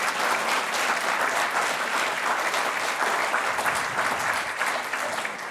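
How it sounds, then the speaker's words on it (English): An audience applauds a lady, a dense, loud, sustained burst of clapping from a large crowd that holds steady throughout. "Could we applaud the lady?"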